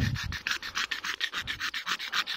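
Bark is scraped off a neem branch to prepare it for air layering, a steady rhythmic rasping of about a dozen even strokes, close and fairly loud, with no voices.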